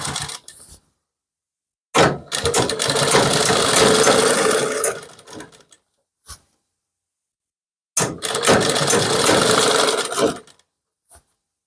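A sewing machine stitches a strip on the back panel of a kurti in two long, loud runs of rapid mechanical whirring, each a few seconds, separated by silence and short clicks as the fabric is adjusted.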